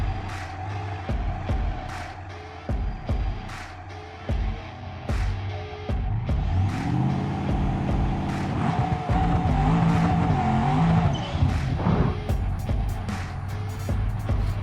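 Twin turbo Burnside car drag racing over an eighth mile in BeamNG, a loud continuous engine roar with rising revs, gear changes and brief tire-squeal bursts as the car slides.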